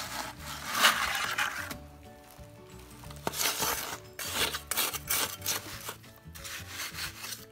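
Grease is rubbed by hand onto a wooden form for casting concrete post supports, giving soft repeated rasping strokes in short bursts with brief pauses, close and fairly quiet.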